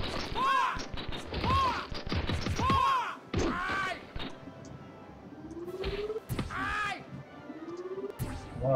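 Gunfire in a video game, bursts of sharp shots with ringing echoes at irregular intervals, fairly loud.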